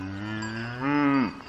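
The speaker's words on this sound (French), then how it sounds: "les cloches des vaches." A cow in a herd gives one long, close, loud moo that swells and then drops off abruptly.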